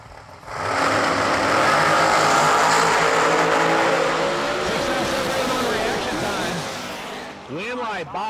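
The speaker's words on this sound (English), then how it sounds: "Bosch, he got the crack of the throttle there" A supercharged dragster launching hard at a drag race, its loud roaring engine swelling and then fading down the track, with an announcer talking over it toward the end.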